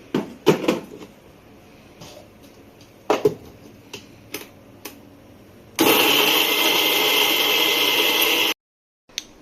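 A mixer grinder whirs loudly and steadily for about three seconds, grinding a spice paste for avial in a Tamil home kitchen, after scattered knocks and clatter, then cuts off abruptly.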